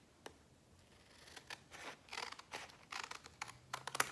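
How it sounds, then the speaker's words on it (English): Scissors cutting paper for a junk journal page, a series of close, crisp snips in uneven rhythm, some quick and some spaced apart, with no talking. "I'm not good at cutting with scissors"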